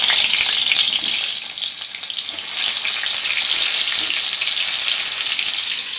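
Food fries in hot oil with a loud, dense sizzle that holds steady, dipping slightly in the middle before swelling back, with faint stirring underneath and no voices.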